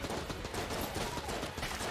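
AK rifle fire in the Enter the Gungeon video game, a rapid, continuous stream of loud automatic shots with no pauses.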